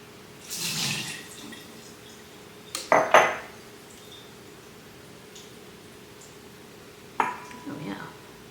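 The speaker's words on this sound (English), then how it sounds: "Let me pour out some of the juice." Juice poured out of a jar of home-canned corned beef, a short liquid splash and clink of glass against metal, followed by another brief clatter later, with talk around it.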